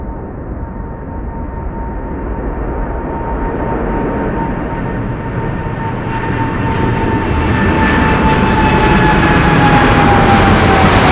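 A landing freighter jet airliner at Anchorage roars with reverse thrust, a loud broad engine rumble with a whining tone that swells and brightens over the clip, close and continuous, no talking.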